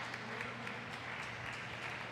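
Church congregation clapping for a fellow member, a soft, continuous patter of applause heard at a distance and fairly faint throughout.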